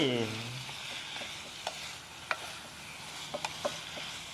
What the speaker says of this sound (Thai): ผัดผักกะเพราใช่ไหม